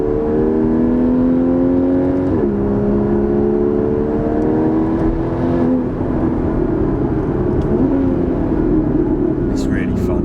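Porsche 981 Cayman S flat-six engine accelerating in sport mode with dual intake, heard from inside as a loud steady drone rising in pitch, with gear changes, continuous for about ten seconds as people talk over it.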